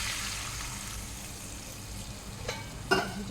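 Vegetables simmering in a pan after a splash of water, a broad steady hiss of frying and steam with a faint utensil tap near the end, no voices.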